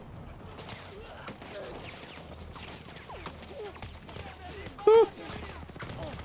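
Rapid gunfire crackles through a Battlefield 1 battle at the Alpini outpost, with bursts of shots all through and a loud blast near the end, while a voice talks and cheers over it.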